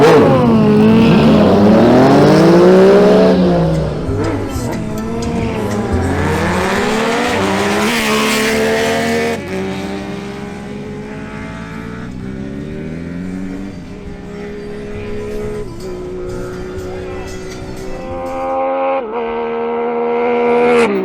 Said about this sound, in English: Next up, Hugo Ortiz's Suzuki GSX-S750 goes against Albiro Orozco's Yamaha MT-09.